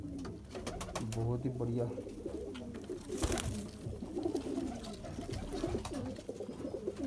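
Golden-breed pigeons kept by a fancier coo softly in bursts through the clip, with someone speaking over them and other birds calling nearby.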